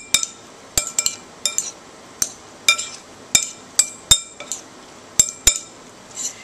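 Eggplant and sauce are stirred together in a dish. A utensil clinks sharply against it about a dozen times in an uneven rhythm, close and clear, with no talking.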